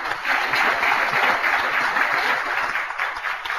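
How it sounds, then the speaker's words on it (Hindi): An audience at a televised women's empowerment program applauds an award winner honored by an American foundation: dense, steady clapping that holds at an even, full level for the whole stretch without a break. "इस अवार्ड के लिए सबसे पहले जोरदार तालियां"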